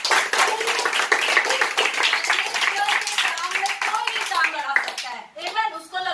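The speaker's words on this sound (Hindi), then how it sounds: "हम लोग एक ताली मारेंगे परमेश्वर के लिए" A church congregation claps together, a loud, brisk patter of many hands close by, with voices speaking over it and a brief dip near the end.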